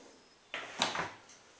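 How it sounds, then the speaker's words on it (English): A self-closing refrigerator door on a concession trailer swings shut, giving a brief soft thump with a short woody clatter that settles quickly, close by and alone with no talking. "Self-closing doors."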